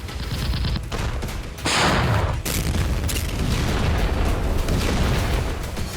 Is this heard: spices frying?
no